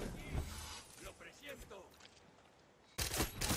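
A burst of rapid gunfire erupts near the end in the video game Far Cry 6, following a stretch of voices talking, with fainter shots scattered earlier.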